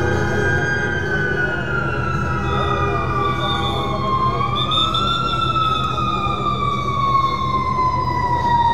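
A fire engine siren wails loudly and close, its pitch rising and falling as the truck arrives at a street accident scene where a woman is trapped under a city bus, with traffic noise underneath.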